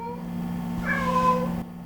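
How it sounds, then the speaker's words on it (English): A new cat meows in one drawn-out, fairly close call over a steady low background hum. "This is my new cat."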